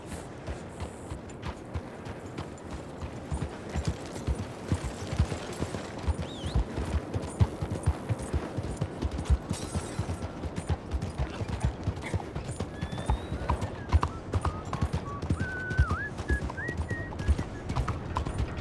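Steady horse hooves clip-clopping at a walking pace in the video game Red Dead Redemption 2, close and continuous, with occasional faint whistling tones and background ambience.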